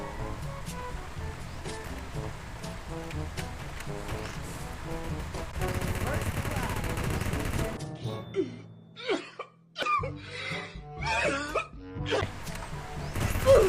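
Rapid bursts of weapon fire from the Free Fire shooter game crack out in quick succession, sharp and loud, after a stretch of steady game background sound.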